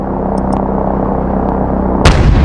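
Gunship cannon fire striking ground targets in the Ace Combat video game: a steady, dense low rumble of distant firing with a few faint clicks, then a sharp loud impact blast near the end.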